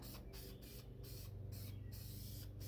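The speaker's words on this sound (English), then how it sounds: "spray it just like so, and it covers extremely good" A steady hiss of Duplicolor vinyl and fabric aerosol spray paint onto a cloth sun visor sprays in bursts, close to the mic, with short pauses between passes and a low hum running underneath.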